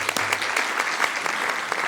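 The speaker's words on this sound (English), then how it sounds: "Everybody, just a round of applause for them again." An audience at a city council meeting gives a sustained round of applause after a chorus performance, a dense, even wash of clapping heard alone with no voices over it.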